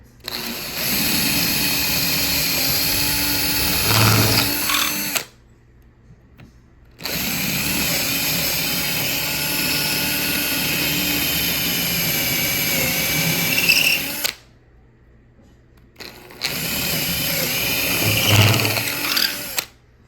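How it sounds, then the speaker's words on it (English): A power drill with a 1/4 inch bit whines loudly into a door frame in three long bursts of several seconds each, separated by brief pauses of near silence. "I got a 1/4 inch drill bit."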